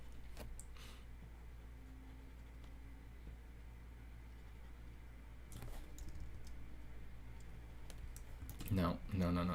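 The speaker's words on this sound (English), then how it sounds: "I don't know if you can hear me like pecking on the keyboard." Soft irregular pecking on a computer keyboard during a digital drawing session with a Wacom tablet, faint and close, with a louder burst of clicks near the end.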